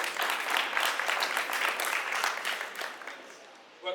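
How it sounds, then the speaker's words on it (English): A crowd at a 60th birthday party breaks into sustained applause, a dense wash of clapping that stays steady and then thins toward the end. "Clap for yourself, yes."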